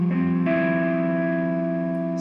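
Overdriven electric guitar through a Line 6 Pod HD500x and DT50 amp with reverb, a chord struck and left ringing with a sustained, slightly distorted tone that decays slowly, loud and alone.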